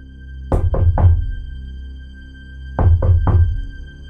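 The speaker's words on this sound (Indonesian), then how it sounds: "mengetuk pintu sebuah rumah joglo yang ada di hadapan kami saat ini" Knuckles rap on the door of a joglo house in two close, crisp bursts of three knocks each, separated by a short pause, with no voices.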